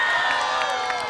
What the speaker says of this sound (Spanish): Chicos, un aplauso para Pablo, por favor.